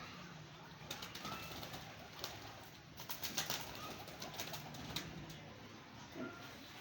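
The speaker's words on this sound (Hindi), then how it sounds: "बहुत ही लाजवाब कबूतर है।" Soft pigeon sounds with a few wing flaps and rustles against a steady outdoor background, fairly quiet and close by.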